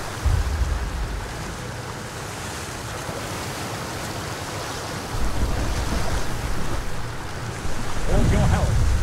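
A warship in War Thunder runs its engine at flank speed, a continuous rushing roar of water and wind with low rumbling surges that grow louder near the end.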